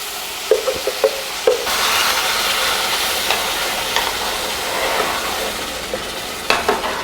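Tomato broth poured over browned rice in a pan sets off a loud, steady sizzle and hiss, with occasional utensil taps and stirring clatter.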